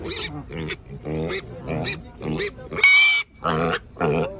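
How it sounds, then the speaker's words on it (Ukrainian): Piglets grunt and squeal in a quick run of short, close calls, one sharper high squeal standing out near the end. "Просто такі поросятки."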